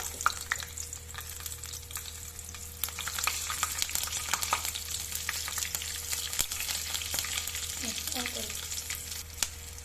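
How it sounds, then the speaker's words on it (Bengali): Nigella seeds and green chillies sizzling in hot oil for Bengali aloo posto, a continuous close crackle with scattered sharp pops and light stirring, no one talking. "তোমরা দেখতে পাচ্ছ আমার তেল গরম হয়ে গেছে। এরপরে দিয়ে দেবো আমি কালো জিরে, দুটো চিড়ে রাখা কাঁচা লঙ্কা"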